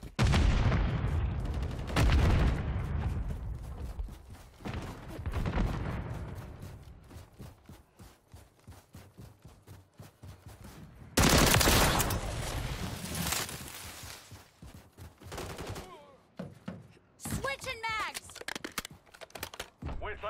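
Gunfire in Call of Duty: Modern Warfare III multiplayer comes as rapid automatic bursts and single loud shots, repeated throughout with short pauses, mixed with game voices talking.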